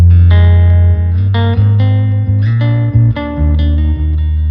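Sustained electric guitar chords played loud through a Blackstar St James amp, each strum ringing into a splashy spring reverb tail, steady and continuous with no voices.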